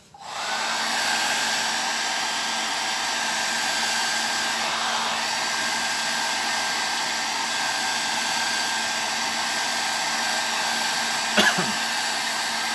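A hair dryer drying fresh paint blows steadily and loudly nearby, a constant whirring roar from start to finish, with a brief click near the end.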